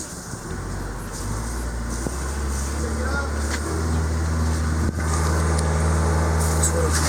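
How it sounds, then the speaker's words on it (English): A Volvo Penta boat engine runs and climbs in revs, its low drone swelling louder over several seconds with brief clunks, while people talk nearby. "Alright, let's rev it up."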